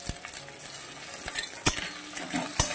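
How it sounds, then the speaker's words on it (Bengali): Ginger paste fries in a pan after garlic, making a low steady sizzle punctuated by sharp clicks and taps of a spoon against the metal as it is stirred. "আদাটাও একটু ভেজে নিই।"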